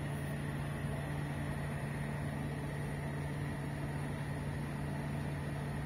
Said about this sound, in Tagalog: Kaya maririnig mo naman yan sa compressor, sa tunog ng aircon